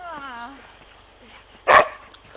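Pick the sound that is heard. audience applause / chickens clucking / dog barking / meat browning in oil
dog barking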